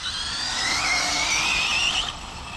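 A radio-controlled car on Proline Toyo Proxes R8 tires slides across pavement: a close, high-pitched motor whine with scrubbing tire noise lasting about two seconds, then dropping away at the end.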